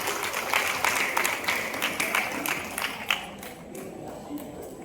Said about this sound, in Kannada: ಚಿತ್ರಕ್ಕೂ ಒಮ್ಮೆ ಚಪ್ಪಾಳೆ ಬರಲಿ ಅಂತ ಕೇಳ್ಬೇಕು